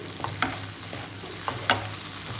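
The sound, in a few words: stirring roasted okra into frying masala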